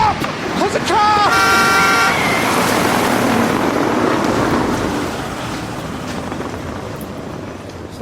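An approaching car gives a short burst of horn toots at close range, followed by a loud engine and tyre rush that slowly fades as the vehicle passes.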